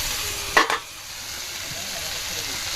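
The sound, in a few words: sautéing chilli, chopped onion, garlic and potato in a pan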